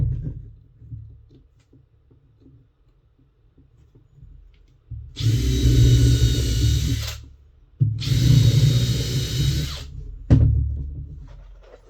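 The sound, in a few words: power drill driving longer screws into Sprinter van floor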